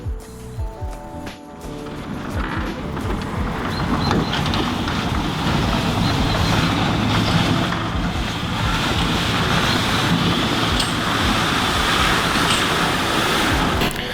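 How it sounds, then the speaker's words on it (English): MGB classic sports car engine warming up, a steady loud idle rumble with broadband roar continuing throughout after a brief starting burst, no talk. "Let's begin with warming up the engine, that's for sure."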